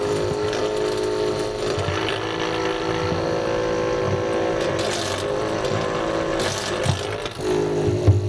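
A small model engine primed with a squirt of methanol in the intake runs steadily. It gives a loud, continuous buzzing drone with a rattling mechanical texture, close up, with no talk over it.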